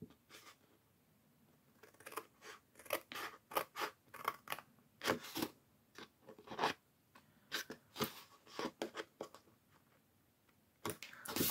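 Scissors snip through paper for a paper advent calendar shaped like a boot: a run of quick, crisp, close cuts in short irregular bursts with brief pauses between them.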